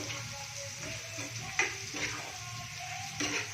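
Onion, chilli and schezwan chutney frying in a pan in a home kitchen, a steady close sizzle with a few light clatters from stirring, no talking.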